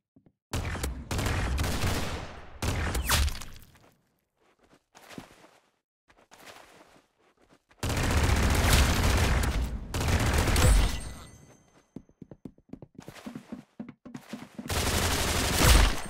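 Rapid bursts of automatic gunfire in the Roblox shooter game Arsenal, loud volleys broken by short pauses and scattered single shots, with no talking.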